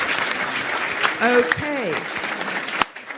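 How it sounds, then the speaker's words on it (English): Audience applause, a steady patter of clapping throughout, with a voice speaking briefly over it. "let's give them a round of applause"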